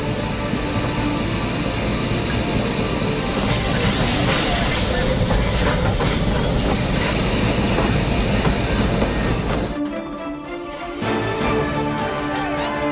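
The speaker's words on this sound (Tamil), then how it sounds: "மேட்டுப்பாளையத்திலிருந்து உதகைக்கு ரயில் இயக்கம்" A Nilgiri mountain railway train runs from Mettupalayam to Ooty, giving a loud continuous rumble and hiss with rhythmic rail clatter that cuts off abruptly near the end, under a news voice.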